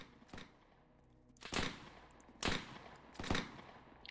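Gunfire and cannon blasts in an Arma 3 battle set in the War of 1812, heard as a few sharp, loud reports spaced about a second apart over a low rumbling background, with no talk.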